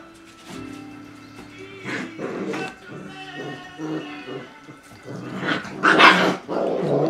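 Puppies growl and snarl in rough play-fighting, with bursts of low rumbling and yips building to a louder scuffle near the end, close by.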